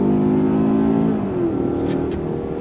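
A 2024 Kia Sorento's naturally aspirated 4-cylinder engine hums steadily under throttle through a U-turn, a loud, close, slightly buzzy drone that eases a little toward the end.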